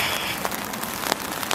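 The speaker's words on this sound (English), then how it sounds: "Rain." Steady rain falls on a hard surface outdoors, a dense continuous patter with scattered louder drops, close and alone without any voices.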